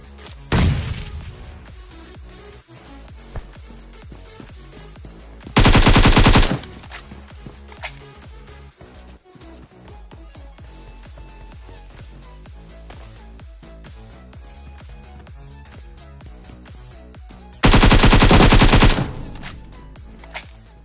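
Automatic gunfire in a battle royale-style shooter as an enemy is knocked down, two dense bursts of rapid shots standing out over a continuous busy game mix of smaller shots and effects, with no talk.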